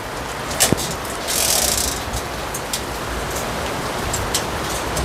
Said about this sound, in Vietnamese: mưa lớn rồi các bạn